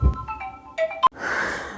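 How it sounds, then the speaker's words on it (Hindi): A phone rings with an incoming call, a short series of faint electronic ringtone notes in a quiet indoor room. "पापा का फ़ोन आ गया, रुको।"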